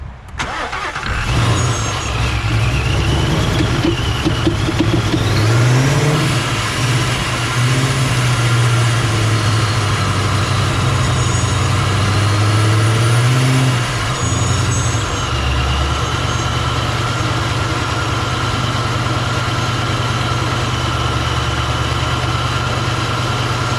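A 2019 Ford Mustang GT with a Vortech supercharger starts and runs at idle, a loud, steady engine drone with rising and falling revs and supercharger whine, close by throughout.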